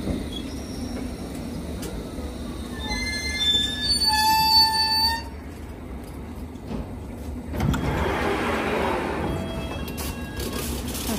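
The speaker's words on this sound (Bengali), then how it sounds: "এই যে দেখেন ট্রেন আসতেছে, এই ট্রেনে উঠবো।" A London Underground District Line train pulls into Whitechapel station with a deep rolling rumble and loud, high wheel squeals that rise and then ease off as it slows along the platform.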